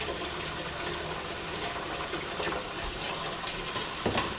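Hot tap water gushes steadily into a bucket, about two gallons, a continuous loud rushing fill with small splashes, heard up close with no talk.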